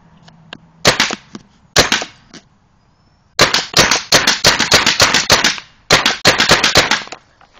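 A Tippmann 98 custom paintball gun fires in loud, sharp pops, first as a few separate shots and then as rapid bursts of repeated shots with brief pauses between them, close up with no talking.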